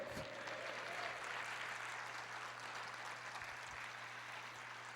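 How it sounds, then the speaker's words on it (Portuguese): Church congregation applauding during a Portuguese-language sermon, a steady, fairly distant wash of clapping that carries through the whole stretch with no speech over it, alongside a low constant hum. "Aplauda o Senhor, diga eu creio."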